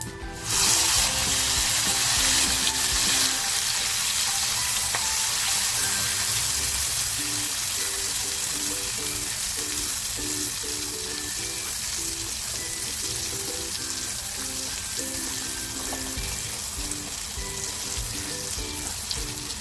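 Cluster beans fry in oil seasoned with turmeric and asafoetida, giving a steady, fairly loud sizzle that runs unbroken for nearly twenty seconds with faint rhythmic stirring beneath it.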